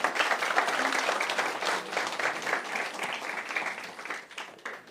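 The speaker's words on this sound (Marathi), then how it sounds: "सो प्लीज सगळ्यांनी एक टाळ्या त्यांच्यासाठी." Audience applause at a traditional Marathi welcome event in Zurich, Switzerland: a steady, dense wash of clapping from a crowd, loud at first and easing slightly toward the end.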